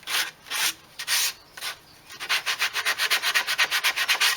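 Pallet wood being sanded by hand with 80 grit sandpaper: a few slow, separate rasping strokes, then a quicker, even run of short back-and-forth scrubs, close and clear with no voices.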